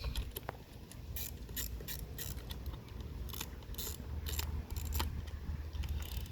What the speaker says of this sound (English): So over here I've got an 8mm socket set to tighten, so I'm going to tighten these guys.